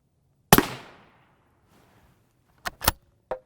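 An M193 rifle round is fired outdoors at an armor plate, giving one loud sharp crack with a fading tail, followed by a few fainter sharp clicks and knocks.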